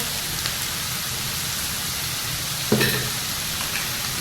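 Spices frying in a pan with oil for paneer tawa pulao: a steady, close sizzle runs throughout, with a brief louder scrape of stirring near the end and a fainter one after it.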